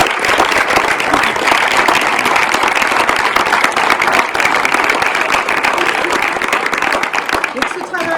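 An audience at the inauguration of a youth book festival gives sustained, dense applause for students and their teachers, loud and steady throughout with no break.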